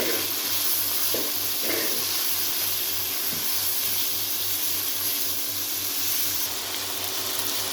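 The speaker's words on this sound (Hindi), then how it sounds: "ये डाल के हम इसको अच्छी तरह भूनेंगे।" Chicken fries in a karahi with salt, garlic-ginger paste, crushed red chilli and turmeric, giving a steady, loud, close sizzling hiss that holds evenly throughout with no talk over it.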